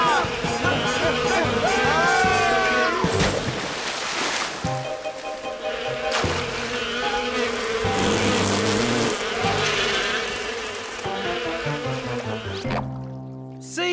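Bees buzzing loudly and continuously in a children's cartoon scene, a close droning swarm with wavering pitch that runs under music and scattered effects for the whole stretch.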